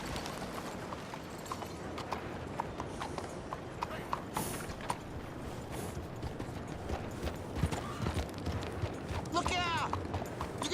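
Horse hooves clip-clop steadily along a trail in the Red Dead Redemption 2 video game, a regular close rhythm running throughout with game voices speaking over it.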